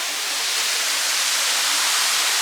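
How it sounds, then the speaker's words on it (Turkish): Waterfall in Nisəqala canyon, Yardımlı, a steady, dense broadband rush of falling water filling the whole clip at close range, constant and loud with no talk over it. "Böyle bir şelale, Yuxarıda körpü de var."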